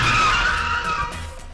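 A car's tires skid hard across the pavement as another driver runs a stop sign into its path at an intersection. A loud, close squeal holds for about a second, then fades under the rumble of the car's engine.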